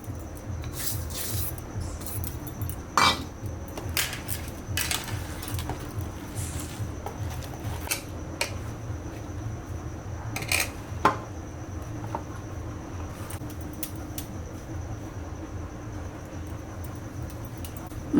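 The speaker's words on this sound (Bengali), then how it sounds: "সব দিয়ে এখন ভালো করে মাখায় নিতে হবে।" Paratha dough mixed by hand with boiled potatoes and a little sugar: steady soft rubbing and squishing in a repeating rhythm, close and quiet, with occasional sharper taps against the bowl.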